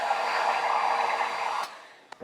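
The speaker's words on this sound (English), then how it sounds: "I'm gonna do that using a heat gun" A heat gun blows a steady, close whooshing stream of hot air while purfling is bent for pickguard binding, then cuts off near the end, followed by a couple of small clicks.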